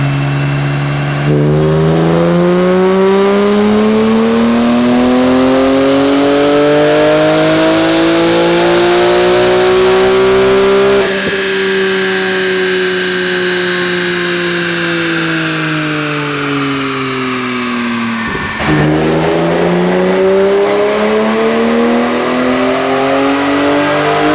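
A high-mileage BMW E46 M3 revs hard on a dyno. The loud, close engine note climbs steadily through a long pull, dips briefly near the end, then surges again.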